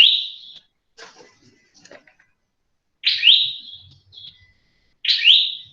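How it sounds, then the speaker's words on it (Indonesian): A lovebird gives sharp, high chirping calls, three bright bursts spaced a few seconds apart with faint lesser twitters between, fairly close and loud against an otherwise quiet background. "Oh, ini lovebird gitu."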